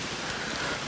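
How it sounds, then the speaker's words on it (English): Heavy pouring rain on the Appalachian Trail near Gentian Pond, a dense continuous hiss filling the air at close range with no talking. "And of course, it's teeming pouring rain."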